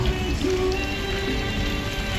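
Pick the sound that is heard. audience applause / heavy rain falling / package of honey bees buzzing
heavy rain falling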